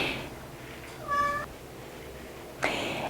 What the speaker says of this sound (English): this is the wonderful meows that you hear in the videos